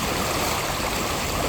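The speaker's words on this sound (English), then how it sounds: "So we're going to have to cross the river." A river in Bali rushes steadily near a waterfall, a dense, continuous wash of flowing water filling the whole moment with no voices.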